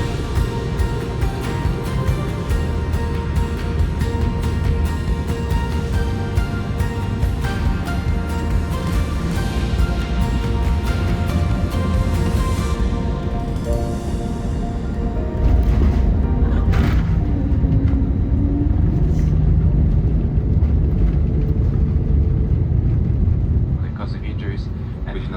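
An Airbus-style Wizz Air airliner lands in Montenegro, heard from inside the cabin as a loud steady engine and airflow roar, with a heavier rumble at touchdown around the middle and a person speaking over it.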